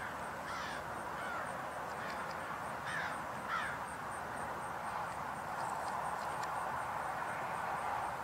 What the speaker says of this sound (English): I just heard a crow.